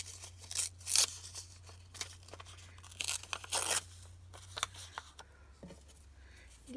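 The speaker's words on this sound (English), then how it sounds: "I'm going to take and tear this off." A paper index card is torn off, giving a few close, dry ripping and crinkling bursts, two of them louder, amid quieter paper handling and no talking.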